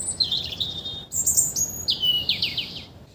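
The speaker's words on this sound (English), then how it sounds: "It's easy to hear birds, but it's not very easy to see them." Several bright, high bird chirps in quick bursts, one call answered by another, fairly close and clear over quiet background.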